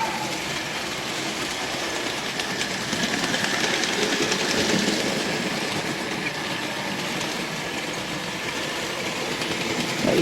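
A Hornby Dublo 3-rail OO model train runs around the track with a continuous whirring motor and fine rattling wheel noise, swelling slightly midway before easing off.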